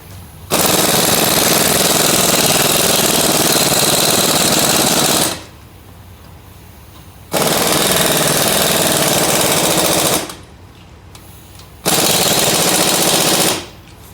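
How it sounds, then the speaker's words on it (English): Three loud bursts of an impact wrench tightening nuts on a Saturn Ion strut assembly, each about three to five seconds long with short quiet gaps between them, up close and with no talking. "As you tighten these nuts, the bolts will press into their slots."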